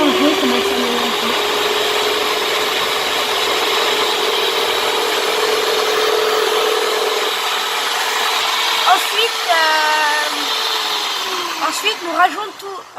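Birthday cake batter is mixed with a loud, steady mechanical whir that runs for several seconds, then stops as a voice speaks briefly near the end.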